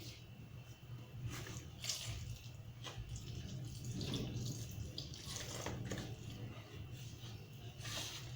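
Warm water poured into chapati dough, a soft, steady trickle and splash running throughout, fairly quiet, with occasional clinks of the bowl and faint voice-like sounds.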